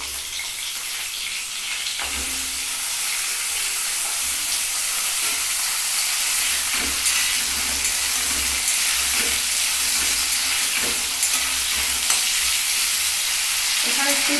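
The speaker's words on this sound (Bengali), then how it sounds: "আর এখানে আমি আলুগুলো ডুমো ডুমো করে কেটে তেলের মধ্যে দিয়ে দিচ্ছি" Diced potatoes fry in hot oil after cumin is added, giving a loud, constant close sizzle and hiss with occasional stirring knocks throughout.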